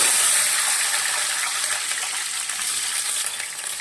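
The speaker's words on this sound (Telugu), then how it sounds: "ఈ ఆయిల్లో ఇప్పుడు మనం బఠానీలు వేసి వేయించుకుందాము ఉల్లిపాయ బఠానీలు" Onions and green peas frying in a little oil, a bright, hissing sizzle that stays close and fairly loud, gradually settling slightly, with no voices.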